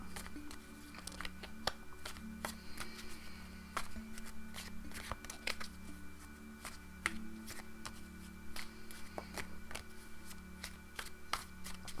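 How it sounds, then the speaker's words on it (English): A deck of Llewellyn tarot cards is shuffled by hand, a long run of quick, crisp riffling and snapping card sounds, close and fairly quiet, with no talking. "give me a moment to shuffle the cards and get centered"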